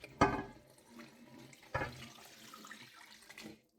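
Chicken stock is poured into a pan of chicken and cauliflower curry, giving two splashy gushes of liquid followed by quieter trickling and faint sizzling, close and fairly soft, no talking.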